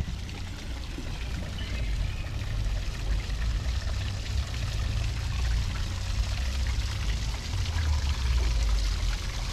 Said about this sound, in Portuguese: Olha só essa cascata